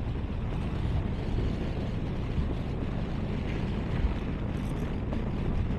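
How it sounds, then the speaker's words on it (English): Strong wind buffets the microphone in a constant low roar in Ladakh between Nubra and Pangong Lake, with dust and sand flying, gusting slightly but never letting up, with no talking. "It's very windy."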